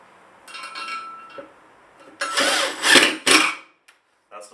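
A power driver turns a screw with a Torx bit while mounting a car-rim hose reel hanger, giving loud short whirring bursts with pauses between, close by.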